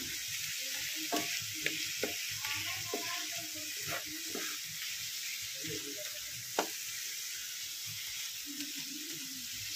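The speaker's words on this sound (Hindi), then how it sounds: "चलिए हम इसको मैश कर लेते हैं पूरा ऐसे दबा दबा के" Cooked papaya being pressed and mashed with a spatula in a pan for halwa, giving soft irregular scrapes and dull taps over a steady low sizzle, close and fairly quiet.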